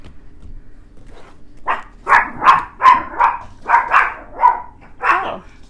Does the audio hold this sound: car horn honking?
no